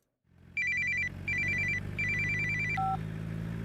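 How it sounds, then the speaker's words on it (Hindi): A telephone ringtone plays three bright repeating bursts of electronic trills over a low background hum, loud and close, with no talking during the rings. "तेरे लिए फोन है"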